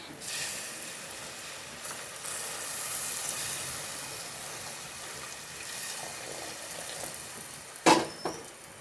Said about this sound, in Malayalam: ഞാൻ ഇനി പുളിവെള്ളമാണ് ഒഴിച്ചു കൊടുക്കുന്നത് കുടംപുളിയുടെ വെള്ളം ഇട്ടിക്കുന്നത് അത് ഒഴിച്ചു കൊടുക്കുന്നുണ്ടേ